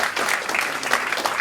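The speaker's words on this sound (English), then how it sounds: "I think you all deserve a round of applause again for achieving that" A short burst of dense audience applause at a conference, even and continuous clapping from a large group.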